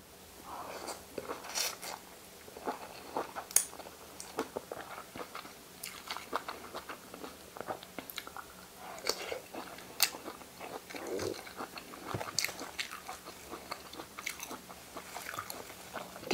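Crunchy biting and wet chewing of a Thai glass noodle fish ball salad eaten by hand, with repeated close mouth sounds in an irregular rhythm, fairly quiet, no talking.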